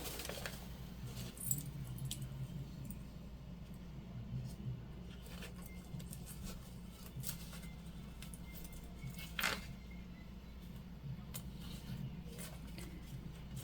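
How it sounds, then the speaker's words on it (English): A metal zipper pull is worked onto zipper tape for a sewn lunch bag: faint, sparse metallic clicks and jangles over a low steady hum, with a slightly sharper tick near the start and another later on. "Now we're gonna put our zipper pull on"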